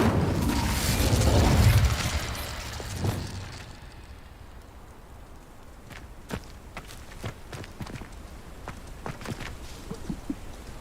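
An Incendio fire spell in Hogwarts Legacy erupts with a loud, close whoosh and rumbling blast that fades over a few seconds, followed by quieter scattered footsteps and small pops.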